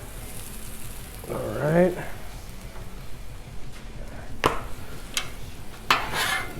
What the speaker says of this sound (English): Let's throw the sausage back on. Get it warmed up.